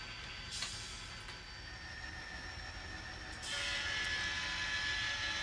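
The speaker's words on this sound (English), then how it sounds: "Thought I'd shoot the train crossing Douglas Avenue." A train rolls across the Douglas Avenue crossing during switching work, a steady rumble of rail cars with a rise in noise partway through, heard from nearby with no talk.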